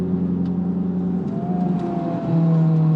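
Honda Civic Type R with a stock engine and aftermarket exhaust accelerating hard, its engine note droning steadily through a gear change before rising again, heard from close inside with no voices.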